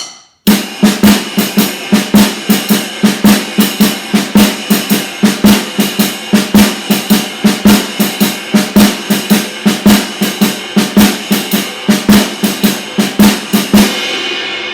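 A drum kit plays a fast, even stream of hits, snare and hi-hat strokes interlocking in a syncopated pattern, loud and close, ending with a ringing decay.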